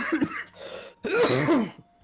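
Two harsh coughing bursts, close and fairly loud, separated by a short pause, with rough throaty voiced edges.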